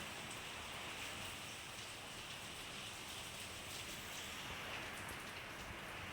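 Rain falls steadily outdoors, a faint, even patter spread across the whole stretch with no voices or other sounds breaking through.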